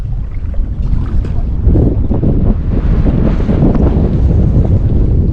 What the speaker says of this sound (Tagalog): bumanat na naman yung hangin